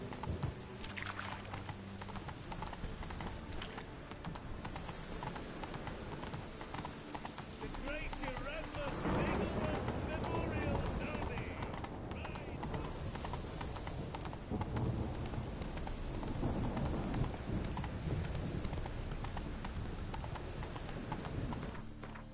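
Roach, the horse in The Witcher 3, gallops with a steady clip-clop of hooves mixed with game ambience. Voices talk over much of it.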